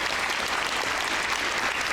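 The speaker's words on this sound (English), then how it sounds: "So let's give Ms. Sheila a round of applause." Steady, dense applause from a banquet audience, many hands clapping continuously at even loudness with no voices over it.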